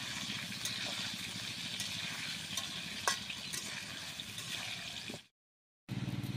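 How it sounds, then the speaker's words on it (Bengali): Potatoes fry in oil with a steady crackling sizzle and occasional stirring clicks for about five seconds, then the sound stops briefly before resuming. "দিয়ে ভালোভাবে আলুগুলো ভাজতে থাকবে"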